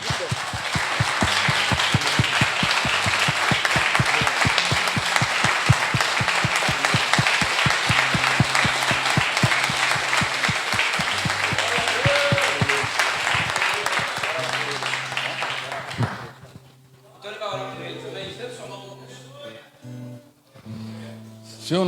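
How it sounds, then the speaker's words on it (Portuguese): A church congregation applauds at a testimony service, with sustained dense clapping that fills most of the clip before thinning out near the end, where a voice and a few scattered sounds remain. "Vamos colocar de pé, vamos aplaudir a vida deles"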